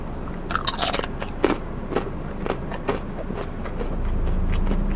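Close, loud crunching bites and chewing of a crispy fried snack, a Thai fried banana made with wild yam batter, with sharp irregular cracks that fade into softer chewing and a low rumble at the end.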